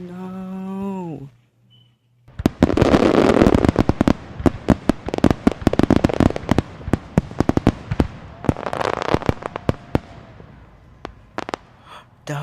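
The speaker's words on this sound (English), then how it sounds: "That was the loudest firework I ever heard." Loud Fourth of July fireworks go off in rapid, irregular bursts of sharp cracks and bangs for about ten seconds after a brief whistling rise and short pause, ending with scattered pops.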